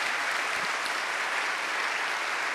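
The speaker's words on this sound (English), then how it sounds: "how about a big round of applause for John and Amy for putting this event together" Steady applause from an audience at an evening event of music and discussion, dense and continuous throughout with no talk over it.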